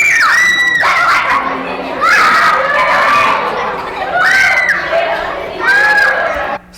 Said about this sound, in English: So they're shrieking with terror and glee